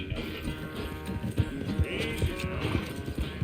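Horse hoofbeats in Red Dead Redemption 2 clatter in an uneven, steady rhythm at close range, with animal noises and a low game-like ambience underneath.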